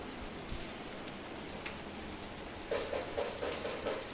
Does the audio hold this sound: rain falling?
yes